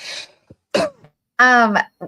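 A couple of short harsh coughs and throat clearing sounds close by, separated by pauses, with a brief voiced sound in between.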